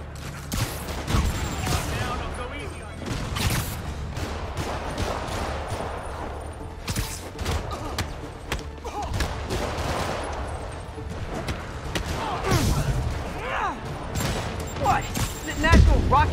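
Rockets launch and blow up in rapid succession during a Spider-Man video game fight, a dense, loud barrage of blasts and gunfire-like bursts that keeps up with scarcely a pause.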